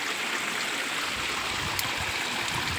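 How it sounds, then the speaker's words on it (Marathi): Forest stream in the countryside flowing steadily, a continuous close rushing and babbling of water alone with no voices. "बघा किती पाणी छान असं वाहतंय"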